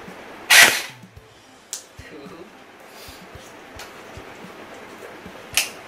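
An M4A1 gel blaster rifle fires a single sharp, close crack, followed by a few fainter clicks and taps in a quiet room.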